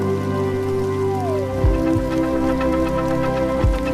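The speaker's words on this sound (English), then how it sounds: "He ran through the rain," Heavy storm rain falls in a steady, even hiss with scattered drops, layered under sustained musical tones and a couple of low thumps.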